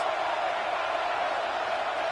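Football stadium crowd roaring for the defense on a big third down, a dense, steady wall of cheering that holds at full strength throughout.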